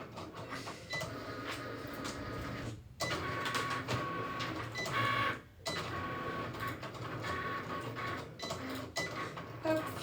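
An office printer runs steadily, its feed mechanism whirring and clattering through pages. The sound stops briefly twice and then carries on, close and fairly loud, with no talking.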